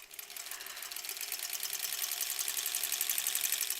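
A sewing machine stitches a label onto a koala quilt, running in a fast, steady, even whir of needle strokes that builds slightly louder, with no voices.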